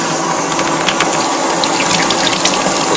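Water gushes steadily from an opened hot-water tap fed by a hybrid water heater, a loud continuous rushing flow with faint splashy flickers throughout.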